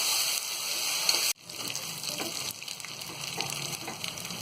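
Ginger-garlic paste hits onions in a hot pan, bringing a sudden cut and then a steady sizzle and crackle of frying. Faint stirring clinks sit under the sizzle, with no talk.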